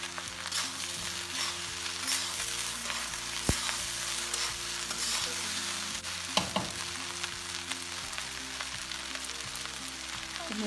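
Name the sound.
stir-frying egg fried rice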